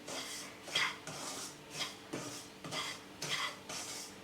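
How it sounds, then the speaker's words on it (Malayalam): A spoon scrapes steadily through semolina roasting in ghee in a pan for pineapple kesari, giving about six rhythmic, close stirring strokes with soft gritty rasps and no talking. "റവ ഇട്ടതിന് ശേഷം കൈയെടുക്കാതെ നന്നായിട്ട് വഴറ്റി കൊടുക്കണം"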